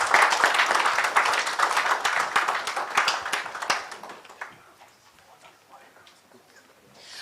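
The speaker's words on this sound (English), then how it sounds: "Round of applause to our amazing panelists." Audience applause for panelists at a United Nations event, a burst of many hands clapping that stays loud for a few seconds and then thins out to scattered claps and quiet.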